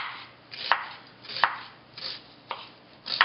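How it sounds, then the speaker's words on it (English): Knife chopping onion, celery and carrot on a cutting board for soup, a handful of firm, separate cuts spaced irregularly, close and clear with no talking. "Let's just chop these up real quick."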